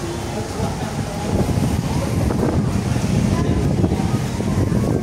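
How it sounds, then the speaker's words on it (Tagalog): Big sea waves surge at a seaside shore in Iloilo, a dense, rolling roar close by, heavily buffeted by wind rumbling against the microphone. "Laki ng alon."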